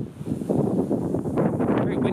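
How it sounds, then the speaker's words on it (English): Wind buffeting the microphone in loud, rough gusts, a blustery low roar that swells and dips throughout. "Very windy today."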